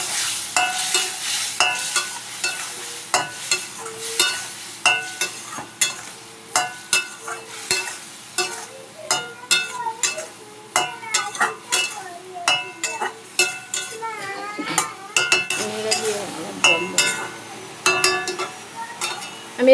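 A spoon stirring a Bengali fish curry with cumin, coriander, salt and a little water in a pan, giving repeated rhythmic scraping and clinking strokes over a soft sizzle, close and fairly loud.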